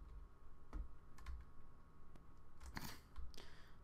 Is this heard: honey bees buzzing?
no